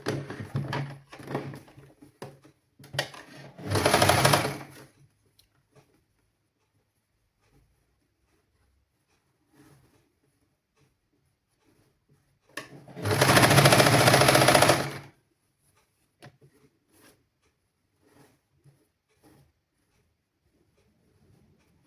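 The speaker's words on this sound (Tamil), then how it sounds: "இதெல்லாம் நாங்கள் இப்படி மடித்து கொண்டு சுற்றி வர தைச்சிட்டு பார்க்கலாம்" A sewing machine stitches around the folded edge of a children's garment in two separate loud bursts, the second longer and steadier, with light handling clicks and quiet gaps between them.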